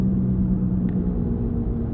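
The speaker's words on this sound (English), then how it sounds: "this is some type of, if I had to guess, a bearing noise" A car on the road with a suspected wheel hub bearing fault gives a steady low rumble and hum while driving, a constant drone with no break and no talking.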